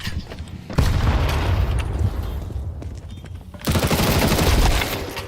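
Grenade blast and bursts of automatic gunfire in a first-person shooter game, loud and dense, with a second heavy eruption of fire near the end.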